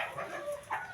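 A sick hen suffering from a gut infection lets out a couple of brief, strained clucks, close by and moderately loud against quiet background noise.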